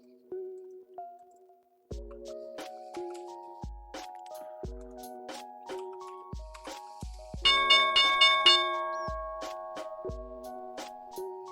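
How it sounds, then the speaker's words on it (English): Stock market opening bell: a series of clear, ringing electronic bell strikes that repeat at intervals of about a second, with a dense flurry of overlapping rings partway through, heard alone without talk. "Alright, there's the bell."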